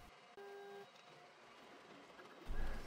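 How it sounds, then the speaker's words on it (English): A Creality K1 3D printer resumes printing with a new filament colour, giving a steady mechanical hum with a short tonal beep-like whine early on and a louder rumbling burst near the end, close and alone. "the printer is continuing with a new color till it pauses again"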